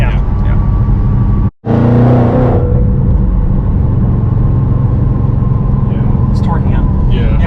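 Ford GT500 accelerating hard on a highway, a loud steady engine and road roar with a brief dropout, people talking over it from inside the car.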